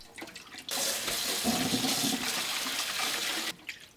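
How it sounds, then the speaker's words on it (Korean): Rehydrated dried zucchini is rinsed under running water in a kitchen, a steady gush and splash lasting about three seconds, with softer trickling before and after. "불린 애호박을 물에 두세 번 헹구고 체에 받쳐주세요"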